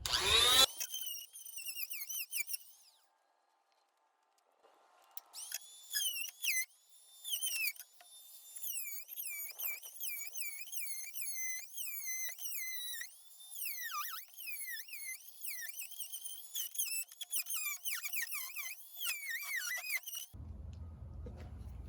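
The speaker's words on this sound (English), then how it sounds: "the tool we're going to use is an oscillating tool with a cutting blade on it" Oscillating tool fitted with a cutting blade chews into rotten door wood, giving a high, squealing buzz in repeated wavering bursts after a brief quiet stretch, loud and close.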